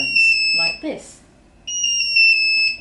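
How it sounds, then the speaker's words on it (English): A Nardalert XT radiation monitor sounds its second-level alarm: a loud sequence of steady electronic beeps that pause briefly while a voice speaks, then resume. "The second alarm level is a sequence of tones like this"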